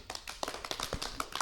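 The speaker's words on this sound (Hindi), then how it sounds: "तालियां बजाइए" Brief scattered clapping from an audience at a children's TV program after a song, a quick patter of hands lasting barely a second and a half.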